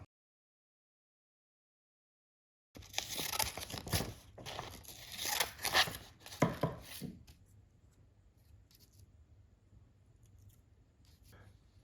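Macon shears snipping after a stretch of silence, a quick series of crisp close cuts and crinkling snips for a few seconds, then fading to faint handling noises.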